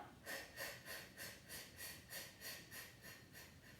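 Soft, rapid breaths, puffed out in an even rhythm of about ten quick pulses during a postnatal core Pilates session, faint and airy with no talking.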